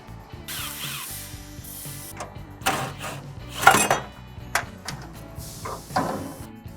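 A ratchet clicks away at the shock absorber mounting on a 1962-67 Chevy Nova, in quick runs of metallic pawl ticks broken by short pauses and a few louder knocks, close up with no talking.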